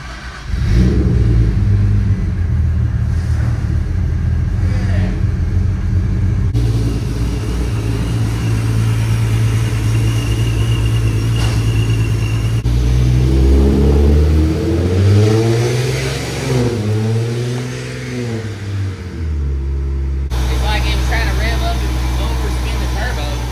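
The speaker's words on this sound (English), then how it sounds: "The car started revving up by itself." A supercharged Nissan 370Z engine idles with a deep, loud rumble, then revs up and down in several swelling surges before settling back to a steady idle close by.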